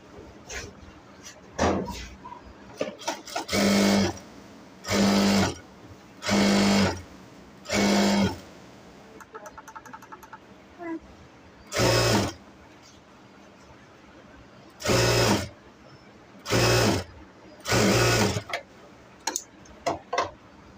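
A sewing machine runs in repeated bursts while stitching a palazzo salwar leg, each run lasting about a second with quiet pauses between, close and loud, with a rapid ticking mechanism.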